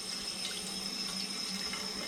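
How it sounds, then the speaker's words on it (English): Tap water runs steadily into a kitchen sink while dishes are rinsed, a continuous close splashing hiss with no talk. "And then I'm just going to rinse these and stick them in."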